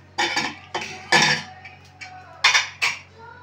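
A pressure cooker is opened after the steaming of ilish paturi, hilsa fish in banana leaf set in a bowl inside. Several sharp metallic clanks and knocks from the lid and pot come in short bursts, close and fairly loud.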